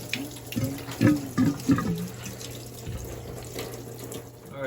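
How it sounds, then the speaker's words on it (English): Water draining from a detached water meter while an outdoor seasonal restroom is being winterized, heard as a close, steady splashing trickle with a few louder gushes early on, no speech. "You can see all the water coming out of that water meter."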